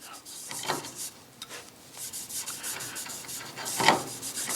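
Hand rubbing oil into the wooden stock of a Remington 31 12-gauge shotgun during restoration, a soft continuous scrubbing friction with a few sharper strokes, close and steady.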